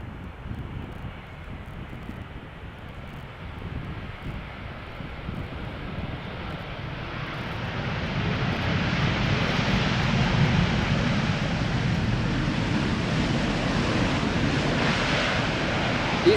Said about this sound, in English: this is KLM flight 741 arriving from Cartagena in Colombia